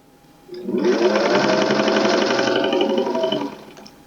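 A sewing machine runs a steady continuous stitching burst for about three seconds on a scrap-fabric scarf, starting and stopping cleanly in a quiet room.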